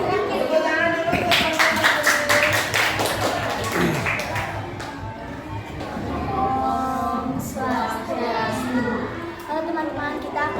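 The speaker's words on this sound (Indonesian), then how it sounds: "Tepuk tangan dulu untuk" Children in a classroom clap hands in a quick, rhythmic burst of sharp claps, then the clapping fades as kids chatter and talk over the room noise.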